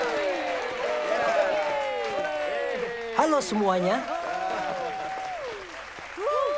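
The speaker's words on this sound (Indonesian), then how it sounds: "Beri tepuk tangan yang meriah." Audience applause swells under lively voices and cheers, with a person greeting the crowd over the clapping, which dips briefly before picking up again.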